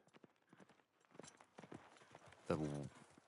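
Horse hooves clip-clopping in The Last of Us Part II, a run of soft rhythmic hoof beats followed by a louder snort or whinny near the end.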